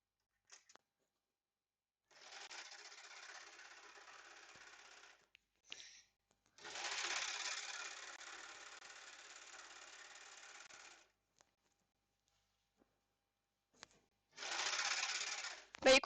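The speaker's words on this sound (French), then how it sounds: "je suis en train de surfiler mes pièces parce que j'ai pas eu le temps de le faire avant de vous rejoindre" Sewing machine overlocking the raw edges of fabric pieces for a first shirt, running in three steady bursts of a few seconds each with short pauses between, close and alone with no talk.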